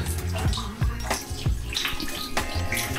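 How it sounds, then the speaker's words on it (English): In a hotel bathroom, a shower head with weak water pressure sputters and splashes unevenly, with irregular thuds and gurgles close by and no talking. "The water is not willing to come out from the shower head."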